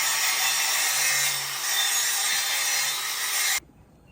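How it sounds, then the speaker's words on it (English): Tack welds on carbon steel pipe being ground, a loud continuous harsh grinding rasp up close that runs steadily for over three seconds and then cuts off abruptly, with no talk. "All the 4 tack have to be grind like this before you put the root."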